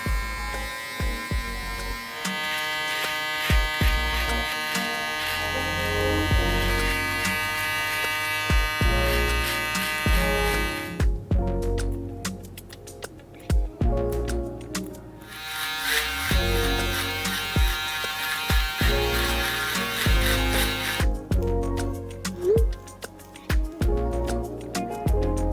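Hair clippers with a 1.5 guard buzz through curly hair close up, a steady electric drone broken by short pauses and brief gaps as the cutting passes repeat.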